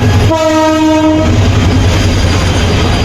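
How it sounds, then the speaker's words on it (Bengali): A passenger train arrives at Sripur railway station with a loud, sustained horn blast for about a second, followed by a heavy, continuous rumble of wheels and carriages close by. "একটি ট্রেন দাঁড়িয়ে আছে এবং আরেকটি ট্রেন ঢুকে গেছে এই ট্রেনের উপরে।"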